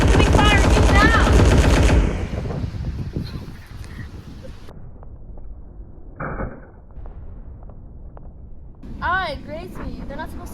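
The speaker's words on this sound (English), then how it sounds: "Incoming fire, get down!" Loud gunfire breaks out near a front-line army medical unit in a M*A*S*H scene, with a rapid burst at first and a later sharp blast. Voices shout and call out over the fire.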